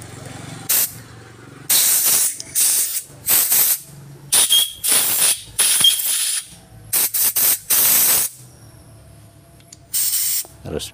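A spray cleaner is sprayed onto engine parts of a Mitsubishi L300 with a weak, misfiring engine, giving repeated loud hissing bursts of varying length, close to the mic, separated by short quiet gaps.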